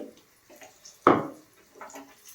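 A mixie jar being handled while raw amla (Indian gooseberry) pickle is made: one close, sharp knock or clunk stands out against a quiet kitchen, with a few faint handling noises before and after.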